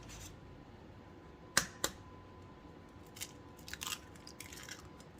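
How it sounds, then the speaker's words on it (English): Three large eggs cracked into a bowl while making a walnut maple pie: two sharp, close cracks in quick succession, then several lighter taps and clicks of shell and yolk dropping in a quiet kitchen. "crack 3 eggs, 3 large eggs,"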